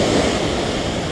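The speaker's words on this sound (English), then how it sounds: "Here comes the wave." An ocean wave washing in at a beach in Hawaii, a loud, close, broad rush of surf lasting about a second, with a touch of wind on the microphone.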